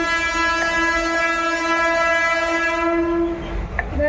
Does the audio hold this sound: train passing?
yes